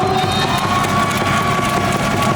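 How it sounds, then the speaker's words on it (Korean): A crowd at an indoor volleyball-game cheerleading event cheers and shouts in a dense, continuous roar, with faint applause blended into the steady noise. "일단 박수와 함성을 부탁드립니다"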